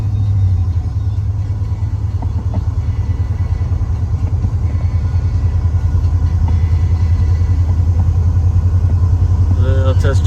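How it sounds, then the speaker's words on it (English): Old body style truck on a test drive, heard from inside the cab as a loud, steady low engine rumble with road noise throughout, a person speaking briefly toward the end. "this is a little test drive right here"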